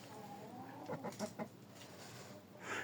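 A Japanese breed chicken gives a short run of soft, fairly faint clucks, with a louder call at the end, no speech.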